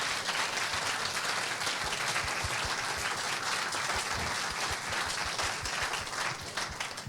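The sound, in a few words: applause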